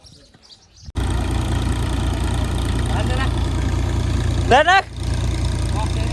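A tractor engine idles on a farm during the cumin harvest, a steady low drone running throughout after a brief quieter start, with people talking over it and a few bird chirps.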